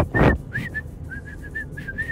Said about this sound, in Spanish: No es que no sé silbar, pero no me sale ahora.